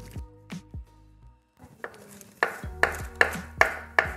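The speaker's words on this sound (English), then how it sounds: "the only thing we gotta cut up and put in here is the parsley" Parsley being chopped with a knife on a cutting board for a squash casserole: a few scattered cuts, then a steady run of sharp, close knife strikes landing roughly every half second.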